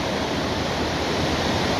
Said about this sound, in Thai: น้ำไหลจากถนนลงมานะคะ